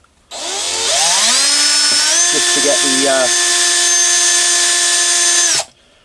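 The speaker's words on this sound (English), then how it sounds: "what I'm going to do is just drill 2 little pilot holes" A power drill drilling small pilot holes spins up with a rising whine, bites briefly with a few sputters, then holds a steady high pitch for several seconds before stopping abruptly.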